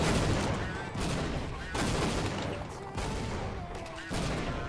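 Rapid bursts of automatic gunfire from the Counter-Strike 1.6 video game, loud and dense, in several sustained volleys with short breaks between them.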